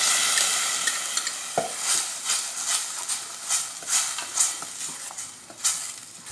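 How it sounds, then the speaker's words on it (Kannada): Blended tomato hisses and sizzles in a hot pan for a cabbage egg curry, with repeated scraping strokes of a spoon stirring the paste in an uneven rhythm. "ಮಿಕ್ಸಿಯಲ್ಲಿ ಹಾಕಿದ ಟೊಮೆಟೊನ ಹಾಕುವ"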